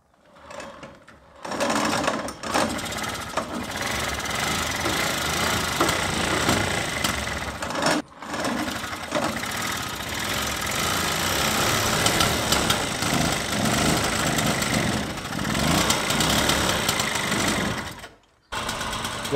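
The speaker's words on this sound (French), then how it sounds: "Donc, je remplis le réservoir et on démarre." A 1965 AV42 moped engine, freshly run on a 4% break-in fuel mix, kicks over and settles into a steady buzzing, rattly two-stroke idle, loud and close with brief cutouts.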